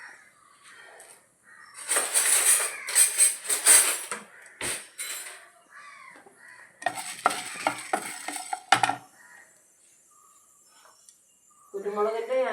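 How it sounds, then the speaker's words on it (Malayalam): Lentils, fenugreek, cumin and dried red chillies are dry-roasted in a pan, heard as bursts of scraping, rattling stirring and light sizzle, close up, with pauses and a voice talking at the end. "ഇതൊക്കെ നമുക്കൊന്ന് വറുത്തെടുത്ത് വെക്കാം"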